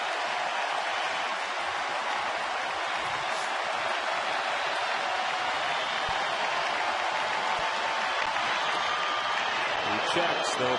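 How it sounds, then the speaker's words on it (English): A baseball stadium crowd in a Florida at Philadelphia game swells into a broad, sustained roar that grows louder over the count, with a commentator talking over it. "Now this crowd is getting a little louder."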